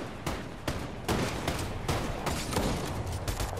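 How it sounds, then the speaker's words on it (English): Shotgun gunfire in a video game firefight, a rapid series of sharp bursts over about four seconds, loud and crowded with overlapping shots. "I killed him with Peter's shotgun"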